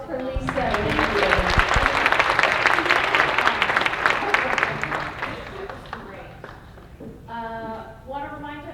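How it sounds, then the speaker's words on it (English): An audience at a healthcare conference event gives a loud, dense burst of applause that fades after about five seconds, followed by someone speaking. "One more round of applause for Lisa."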